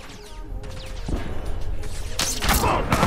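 Gunfire from The Last of Us Factions multiplayer on PS5, a burst of loud shots building toward the end of a short game moment, with crashing impacts layered over a busy background.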